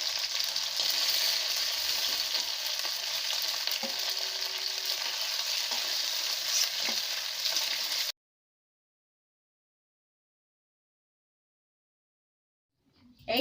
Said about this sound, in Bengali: চলো একে একে এবার সবগুলো ভেজে।